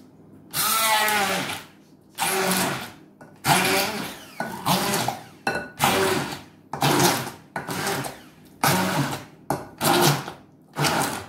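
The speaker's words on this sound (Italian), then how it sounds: "A questo punto andiamo a frullare" A kitchen blender purees pumpkin in about ten short pulses, each a loud whirring burst separated by brief silences, close and alone.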